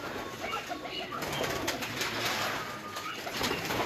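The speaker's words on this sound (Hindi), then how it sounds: "उस्ताद मंसूर के जोड़ों वाले कबूतर हैं सर, ब्रीडर कबूतर हैं सारे" Breeder pigeons on a rooftop coo steadily in a soft, continuous chorus at close to mid distance, with faint rustling and ambient noise around them and no voices.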